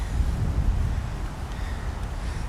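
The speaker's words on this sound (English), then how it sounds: "Boy, it's windy." Wind gusting hard against an outdoor microphone, a steady low roaring buffet with no voices.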